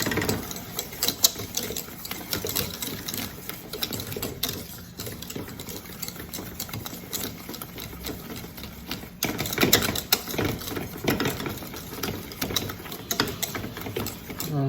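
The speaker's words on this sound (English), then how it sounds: "Start to stir. Here's my trusty whisk." Wire whisk stirring choux pastry dough in a pan on the heat, a steady rapid scraping and rattling that runs continuously and fairly close throughout, with no talking.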